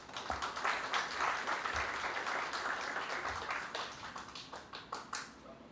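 An audience at a book launch on Quechua wisdom and mental health in Peru claps strongly to welcome a speaker, a close, dense burst of applause that thins into separate claps toward the end.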